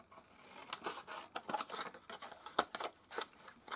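Scissors snip through a sheet of paper with a run of close, crisp cuts, each one a short dry rasp, repeating irregularly and sounding alone with no talking.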